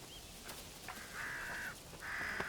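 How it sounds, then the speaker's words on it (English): Hooded crows squabbling over a carcass on the Isle of Mull, giving a few hoarse, drawn-out caws, two longer calls standing out clearly over faint outdoor background. "First on the scene are hooded crows."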